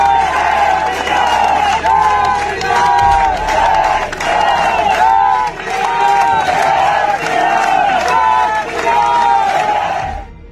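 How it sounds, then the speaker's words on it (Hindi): Protest crowd outside a police station in Kanpur, loud rhythmic chanting of Jai Shri Ram slogans in repeated bursts over clapping and cheering, dense and close for about ten seconds. "तालियां बजा रहे हैं और फिर जय श्री राम के नारे लगा रहे"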